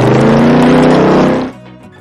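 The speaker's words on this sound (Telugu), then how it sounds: "మోటార్ బైక్ పడవను నీళ్ళల్లో తోలాడు" A loud, close motorbike engine powering a boat through floodwater drones steadily with a rough motor tone, then cuts out abruptly, leaving a quieter tail.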